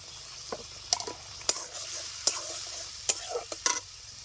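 Spices with chopped tomato frying for a fish curry, a low sizzle punctuated by several crisp clinks and scrapes of a spoon on the pan, fairly quiet and close without speech.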